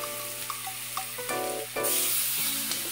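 Seasoned chicken pieces hit a hot pan with olive oil, breaking into a loud, close sizzle that swells sharply partway through, with a few soft clinks and scrapes before it.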